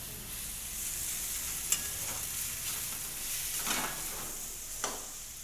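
Garlic ginger paste with spices frying for an Indian tadka, a steady crackling sizzle in a pan with a few soft stirring clinks, close and continuous, without talk.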